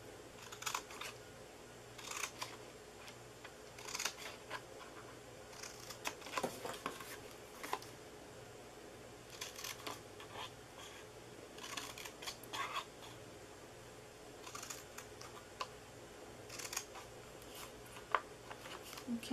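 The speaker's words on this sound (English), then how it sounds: "And then we are going to cut our side flaps here." Scissors cut the side flaps of a paper party-favor treat box in a series of quiet, crisp snips spaced irregularly over a hushed background, with occasional faint talk.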